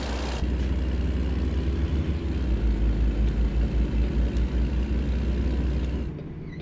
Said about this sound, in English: And I just wish the engine brake was louder.